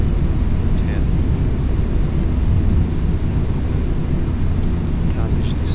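Steady engine drone of an airliner on approach to land in Flight Simulator X, a continuous loud rumble with a few faint cockpit beeps over it, and no talk over it.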